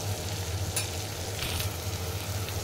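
Onions fry in a pan with salt, turmeric and dried mango powder for bread poha, making a steady close sizzle broken by soft scraping stirs.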